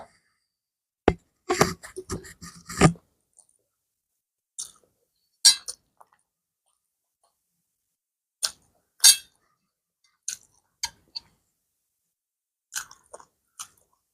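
Someone eats chicken noodles made with fried chicken pieces, the chewing heard as close, sparse clicks and soft crunchy bursts separated by silent gaps.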